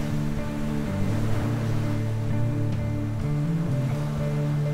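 Ocean surf suited to bodyboarding breaks continuously, a loud, steady roaring wash of waves with rolling surges and no voices.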